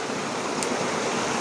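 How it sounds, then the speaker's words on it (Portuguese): A waterfall near Iguape in Brazil, a dense steady rush of flowing water filling the short moment, close and loud with no voices. "essa cachoeira aqui passa pela tribo ali"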